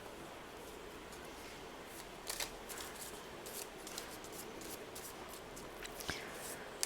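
Tarot cards being handled and shuffled, soft rustling and riffling with scattered light taps and flicks, quiet and close.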